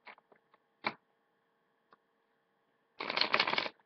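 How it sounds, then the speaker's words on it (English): Tarot cards being shuffled by hand, a few soft isolated taps and riffles followed by a quick rapid flutter of cards near the end, close and quiet in an otherwise silent room. "I like to go through a last little bit of a shuffle while I'm actually recording for you"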